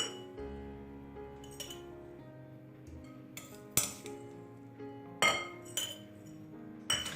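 Crushed biscuits are spooned into glass jars, with sharp spoon clinks against glass ringing out at irregular intervals over a quiet kitchen background, close and distinct.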